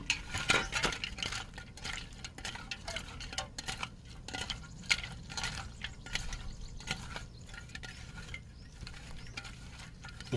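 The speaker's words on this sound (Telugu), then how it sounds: "ఇంకా దీన్ని కొంచెం వాటర్ వేసి కడగండి" Water splashing and sloshing with scraping and clattering as soil-covered roots are rinsed and scrubbed by hand, steady and close, with no voices.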